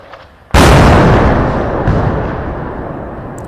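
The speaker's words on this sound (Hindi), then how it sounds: "मोटार शेल ऐसे आवाज़ से ऐसे लगता है जैसे मोटार शेल पाकिस्तान की तरफ से छोड़े" A mortar shell blast near Poonch in a cross-border shelling exchange, one sudden loud boom that rumbles and slowly fades over a few seconds, with a faint secondary thud partway through.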